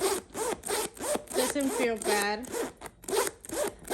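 The yellow-gold metal zipper on a Louis Vuitton bumbag is dragged open in several short, raspy pulls, close by, while someone speaks softly in between.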